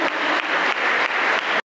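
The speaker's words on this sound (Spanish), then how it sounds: "Un aplauso, por favor." A brief round of audience applause at a student event supporting civic associations, dense, even clapping from a nearby crowd that cuts off abruptly.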